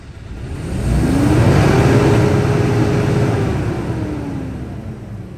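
Isuzu wing van engine revved up once, rising to a loud, sustained roar close by and then slowly easing back down, with no talk over it.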